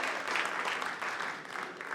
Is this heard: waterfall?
no